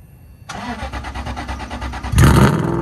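A race car engine cranks with a rapid rhythmic churning, then fires and roars loudly to life with a strong rev near the end.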